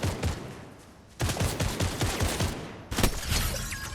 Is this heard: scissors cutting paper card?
no